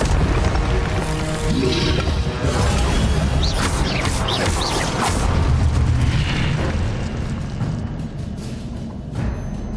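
Fire spell cast over and over in Hogwarts Legacy on Switch, a dense, continuous roar of booming bursts and crackling blasts with repeated sharp flares, loud and close, with no talking.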